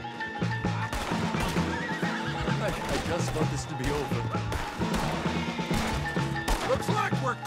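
Horses in the Red Dead Redemption 2 game, with loud whinnies and neighs over a run of clip-clopping hooves, mixed with game music and characters talking throughout.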